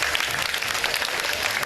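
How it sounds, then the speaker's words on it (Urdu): Studio audience clapping steadily for two contestants on a Ramadan iftar cooking show, a dense, even wash of applause with no break for the short stretch. "بہت ساری تالیاں بجا دیں ہمارے دونوں کنٹیسٹنٹس کے لیے."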